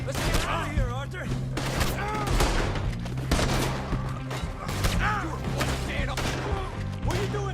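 Rapid gunfire bursts out repeatedly in a Red Dead Redemption 2 shootout, loud and close with dense irregular volleys, while voices shout over the shots.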